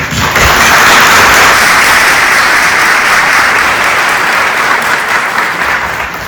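Loud, dense audience applause fills the space continuously, a thick roar of many hands that holds steady for several seconds and eases slightly near the end.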